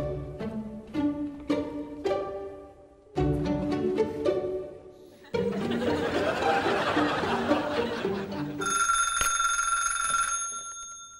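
A telephone rings in a house, a loud electronic ring that sounds alone after a stretch of tonal music and noise.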